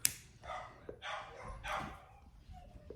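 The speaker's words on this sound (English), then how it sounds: "so the dogs are going nuts" Dogs barking indoors as someone arrives home, a few faint muffled barks and yips in a short burst, somewhat distant and low in level.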